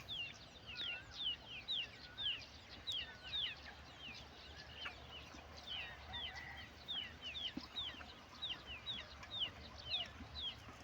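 Chickens cluck in repeated short bursts, faint and somewhat distant, over a low background hum.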